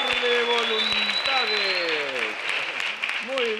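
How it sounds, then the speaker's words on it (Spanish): A studio audience claps for a comedy performer on a Pataclaun episode, the steady clapping running under sliding, exaggerated vocal tones and whistles from performers throughout. "fuerte el aplauso para Machín Alberto"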